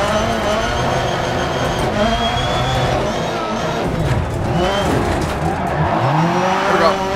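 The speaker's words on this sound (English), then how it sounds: "the car definitely does slide like it would in real life" A rally car in Dirt Rally 2.0 roars steadily at high revs, its engine note rising and falling as the tires skid and slide across gravel, loud and continuous.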